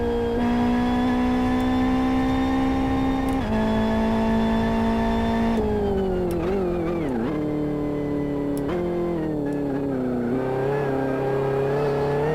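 Race car engine in the sim game Live for Speed running a lap, a steady, loud, harmonic whine that holds pitch, then dips and climbs through gear changes and corners, continuous from start to finish with no talking.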